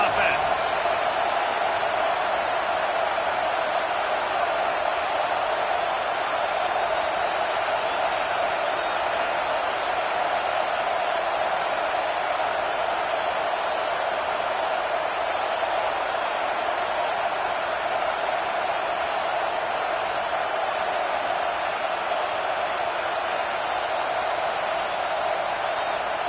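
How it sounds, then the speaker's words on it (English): Stadium crowd at an Oregon college football game roaring on a fourth-down play, a sustained dense wall of cheering and noise with no break, heard far-off and broad. "this crowd is making it miserable on this offense"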